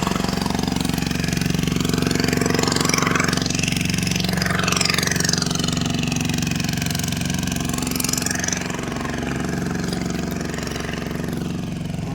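A boat engine runs steadily on the Narmada river, a continuous loud mechanical drone with a rough rumble. Water and wind noise sit close underneath it throughout.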